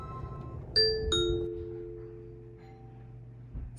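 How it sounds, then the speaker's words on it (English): An Alexa speaker sounds a Ring doorbell chime, two clear bell-like tones in quick succession whose notes ring out and decay over a few seconds, fairly close with no talk. "When the doorbell rings, I get a notification"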